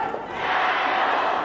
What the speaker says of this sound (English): So the local crowd enjoying that